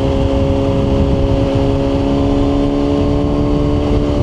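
Kawasaki ZH2 naked motorcycle riding on cruise control and gaining speed on its own, a loud, steady engine drone with a strong humming tone and rushing road and wind noise, up close throughout.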